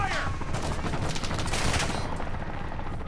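Sustained light machine gun fire in the video game Call of Duty: Modern Warfare II, a dense, loud burst of rapid shots running through the whole stretch without pause.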